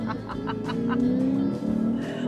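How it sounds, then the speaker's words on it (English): A Lexus IS 500 with a 5-liter V8 revs up with a rising engine tone on a coastal highway drive, loud and close, with brief voice-like bursts over it early on. "Oh man, a 5-liter V8 is amazing."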